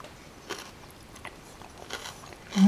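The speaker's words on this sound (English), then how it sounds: "Mmm, a nice crunch" Crunchy celery bitten and chewed in a cold, creamy potato salad, a few crisp bites and soft chewing crunches, close and quiet, with no talking.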